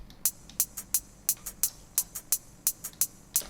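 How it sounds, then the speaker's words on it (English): Quiet drum and bass hi-hat pattern of crisp, airy ticks in a fast, syncopated rhythm, with some hits accented, alone over a faint hiss. "we have a hi-hat pattern that sounds like this"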